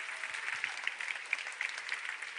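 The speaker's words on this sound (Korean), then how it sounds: "우리 대표님께 박수 한번 부탁드리겠습니다" Audience at a company presentation applauding the CEO, a moderate, even wash of many hands clapping with a few sharper claps standing out, slightly distant and alone.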